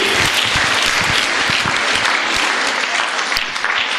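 Dense audience applause fills a science quiz hall at a school quiz event, a steady loud wash of many hands clapping from start to finish with no talk over it.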